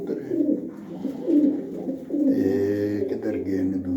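Pigeons cooing close by in a loft, steady low throaty coos rolling on continuously, with a voice talking over them.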